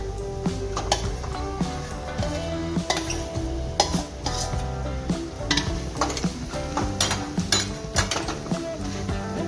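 Masala spices are stirred into frankie filling in a pan with a spoon, making repeated clinks and scrapes against the metal over a soft sizzle, close and busy in an irregular rhythm.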